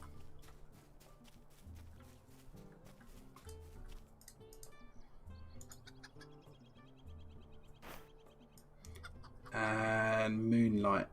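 A rooster clucks in intermittent short bursts in the Lord of the Rings Online Shire area, moderately loud over game ambience. A louder, dense burst of sound comes near the end.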